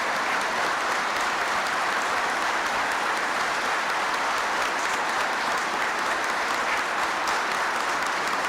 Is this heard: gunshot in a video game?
no